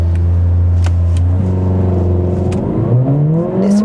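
A Mercedes-AMG CLA 45 makes a launch-control start in Comfort mode: a loud, close engine holds a steady low drone, then revs climb sharply as the car pulls away, with rising pitch and no talking.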